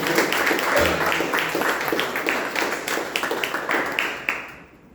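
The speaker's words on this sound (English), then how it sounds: "Please give a big round of" A club meeting audience gives a round of applause, dense steady clapping from many hands that fills the room, then fades out toward the end.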